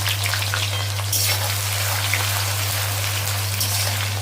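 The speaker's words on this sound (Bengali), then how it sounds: "পেঁয়াজটা লাল লাল করে পুরো ভেজে নেব" Onion pieces frying in caramelized sugar for mutton, a steady close hiss with crackling patter like rain, continuous and fairly loud over a low hum.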